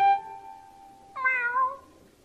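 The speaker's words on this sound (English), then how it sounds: "Meow." A cartoon snail meows like a cat in the SpongeBob SquarePants cartoon: a held, steady tone followed by a short rising and falling meow, clear and close, with no talking.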